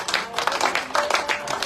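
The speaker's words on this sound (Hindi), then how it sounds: "थोड़ा हाथ उठाओ और जोर से ताली बजाए।" An audience at a Bhagavat Katha religious gathering claps loudly in rhythm, many hands together, close and continuous.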